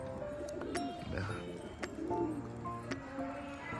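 Pigeons coo in soft, repeated bursts close by, with birds moving about in a loft; their calls rise over a steady background hum, and the murmuring pulses come several times across the short stretch.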